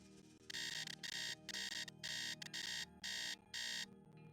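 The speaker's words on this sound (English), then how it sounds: "the classic Nancy Drew alarm" Alarm clock in the Nancy Drew: Secret of the Scarlet Hand video game rings in loud, regular electronic bursts, about eight pulses with short gaps, over a quiet game soundscape.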